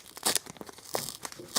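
A received mail envelope is torn open by hand in a few short, crisp ripping bursts with papery crinkles between them, close and fairly quiet, with no voices.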